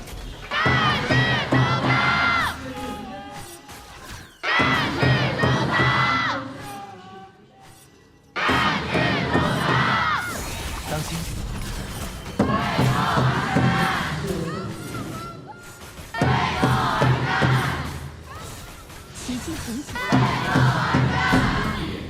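A large crowd at the KPL Grand Finals esports event chants and roars in loud, rhythmic waves of massed shouting, surging repeatedly with a brief lull midway, full and close.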